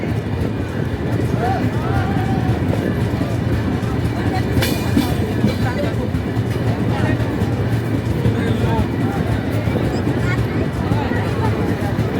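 The Ruposhi Bangla Express train at Narail railway station, a loud continuous rumble of the train running through, with crowd chatter and voices heard over it throughout.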